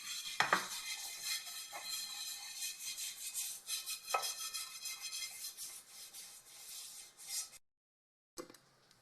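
Oil being spread over a pan in a home kitchen before bread dough goes in, soft rubbing and scraping with a few light metallic knocks of the pan, fairly quiet and close, ending in a brief silence.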